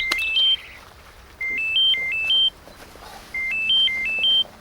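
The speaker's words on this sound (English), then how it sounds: "Just then, Simon's phone rang." Mobile phone ringing with a melodic electronic ringtone, three bursts of quick stepped beeping notes separated by short pauses, clear and close.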